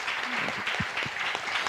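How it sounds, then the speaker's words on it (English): Forum audience applauds panelists, a moderate spread of clapping from a hall that carries on steadily, with a brief voice murmuring underneath. "please join me giving a big hands applause to our panelists here"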